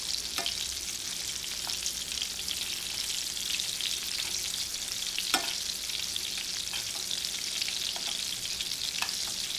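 Breaded food shallow-frying in a pan of oil gives a steady, close hiss of sizzling, broken by occasional small pops and crackles, with no talking.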